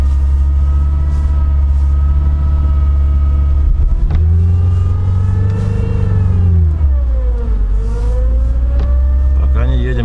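A UAZ Patriot engine revs and rumbles loudly while pulling a Niva out of mud in the rain, pitch rising and falling over several pulls, with voices heard over it.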